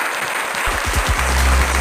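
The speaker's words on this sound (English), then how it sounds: "Round of applause for Mr." Applause rings out steadily through a comedic sketch, broad clapping noise joined partway by low rumbling tones that swell toward the end.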